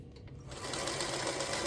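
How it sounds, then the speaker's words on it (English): Sewing machine stitching scrappy five-inch quilt block squares, a steady continuous whirring run that starts after a brief lead-in and carries on close and even. "Some more bonus sewing here."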